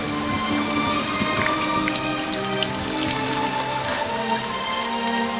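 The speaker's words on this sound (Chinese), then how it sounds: "而且雨势还挺大。" Heavy rain pouring down in a dense, loud, unbroken wash of drops striking surfaces, close and steady throughout with no voices.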